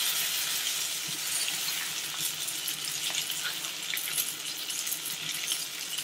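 Marinated pomfret fish sizzles on a grill with a dense, steady crackle and hiss, close and continuous, with faint pops and no voices over it.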